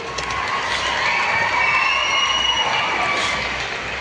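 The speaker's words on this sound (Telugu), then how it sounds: "చప్పట్లు కొట్టండి గట్టిగా" A large audience claps and cheers together in a sustained, dense roar of applause and shouting, with no single voice standing out.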